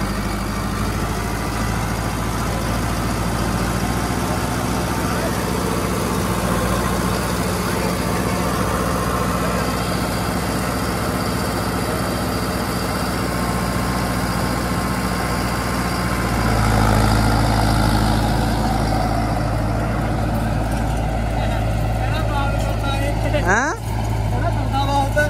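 A tractor engine runs at close range with a steady low rumble and chugging throb, growing a little louder and heavier toward the end, while voices talk over it.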